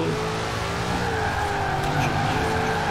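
Continuous engine roar of a Ford Ranger Raptor pickup truck in Forza Horizon 4, tires squealing and skidding through a long controlled drift, steady and loud throughout.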